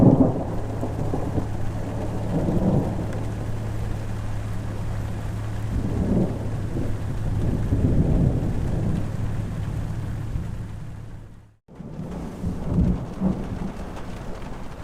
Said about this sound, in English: So I don't know if you just heard that, but that was thunder.